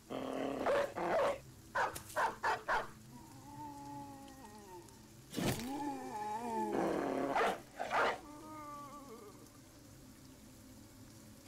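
Dogs in the Battle Brothers video game bark, yip and growl in several loud bursts, with a sustained snarling stretch in the middle, over a low game soundtrack.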